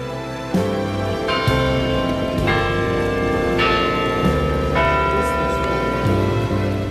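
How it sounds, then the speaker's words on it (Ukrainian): Several large carillon bells in Wiesbaden ring together in a rich, overlapping peal, with new strikes every second or so layering into a sustained, resonant wash. "І коли звучать дзвони карельйону, їх чути у всьому Візбадені."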